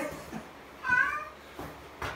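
A cat gives a single short meow indoors, close and moderately loud, with soft rustling and faint handling sounds around it.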